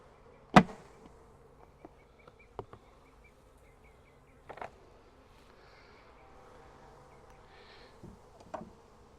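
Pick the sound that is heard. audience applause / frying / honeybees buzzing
honeybees buzzing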